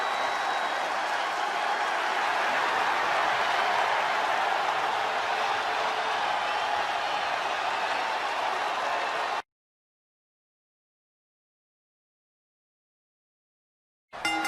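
A crowd in the WWE 2K20 wrestling video game cheers and applauds in a continuous roar for about nine seconds, then cuts to silence before a brief return at the end.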